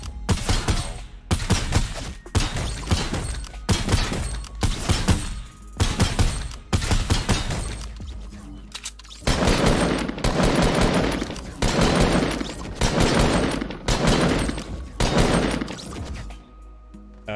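Rapid automatic gunfire from a Fortnite player shooting practice robots, long loud bursts of shots with brief pauses between them, alone with no talk.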